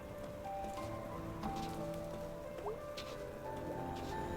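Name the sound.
rain falling in the video game Night In The Woods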